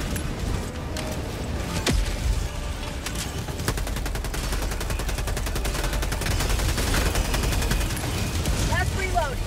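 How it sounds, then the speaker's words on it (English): A sentry turret in Helldivers 2 firing long, rapid bursts that merge with other gunfire and explosions into a loud, dense, continuous din of battle. "Calling down a sentry."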